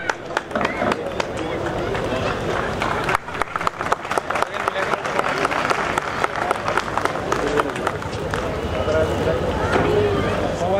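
Sustained audience applause at an all-India Urdu mushaira poetry gathering in Belgaum, dense steady clapping from a large crowd that carries on throughout.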